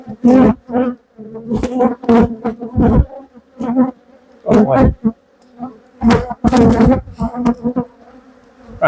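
Honey bees from a disturbed colony buzz loudly at an opened hive during a quarantine apiary inspection, their agitated drone rising and falling in close, repeated bursts with no talk.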